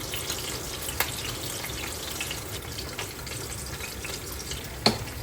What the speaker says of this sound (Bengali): এদিকে পেঁয়াজটা ভাজা হতে থাক